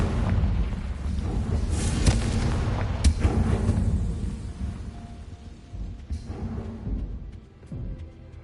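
A Confringo fire spell explodes in Hogwarts Legacy, with booming blasts and crackling bursts at around two and three seconds over a dense, rumbling battle din that fades toward the end.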